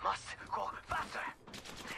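Gunfire from Apex Legends played on Nintendo Switch, a ranked match, several short bursts of shots in quick succession, fairly close and mid-loud, with game voice callouts and a speaking player mixed in.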